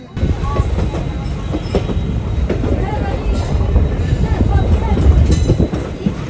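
A train rolls into Bathinda Junction in Punjab with a loud, steady rumble and rhythmic clickety-clack of wheels on rails, heard from on board, with a voice talking over it.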